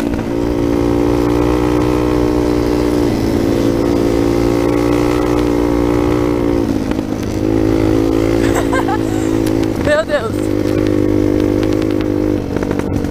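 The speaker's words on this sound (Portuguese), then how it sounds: "essa aqui é a minha nova moto de trilha, de cross" A motocross dirt bike engine runs loud and close at a steady idle with slight shifts in pitch, its buzzy harmonic drone continuous throughout, with a voice briefly audible under it.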